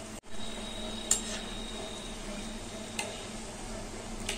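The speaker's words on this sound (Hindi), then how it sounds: "उलट पलट कर दोनों ओर से डीप फ्राई करेंगे" Aloo paneer gujiya deep frying in hot oil, a steady soft sizzle and bubble held close, broken by a few sharp clicks of a utensil turning the pieces.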